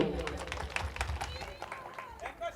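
An audience at a live devotional song performance clapping, a scattered but continuous burst of many hands at low volume, mixed with crowd murmur and voices talking.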